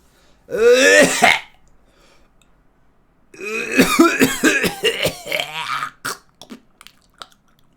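A person imitates coughing, a short burst of harsh throaty coughs followed by a longer run of rough hacking coughs that trail off into small sputters.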